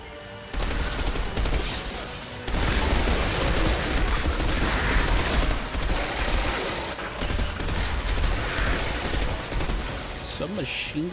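Sustained machine gun fire in the Outriders video game during a campaign fight, a dense continuous roar of rapid shots with brief dips, loud and close throughout.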